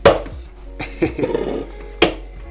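Minced meat for lula kebab is slammed down to tenderize it, with three heavy, close thuds about a second apart and a softer squelching patter between the first two.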